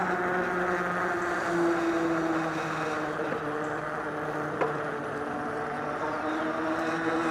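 An e-bike cruising along a residential street, giving a steady, thin electric motor whine with faint road and wind noise underneath, even and unbroken throughout.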